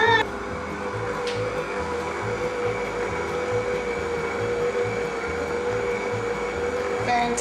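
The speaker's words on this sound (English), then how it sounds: "This is the first try of the mini mixer." A small electric mini mixer whirs steadily while combining s'mores cupcake batter, a continuous close motor drone with a faint rhythmic pulse throughout.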